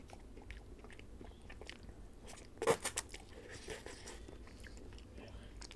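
Close, quiet bites and chewing on a pineapple ice cream cone, with a sharp crunchy bite in the middle and soft mouth sounds before and after, recorded intimately.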